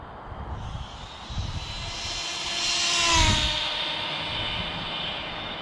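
High-pitched electric whine of an RC speed-run car with a 28mm motor, high C rated battery and 31 tooth pinion at full throttle, rising and sweeping past as it passes, fading slightly afterward.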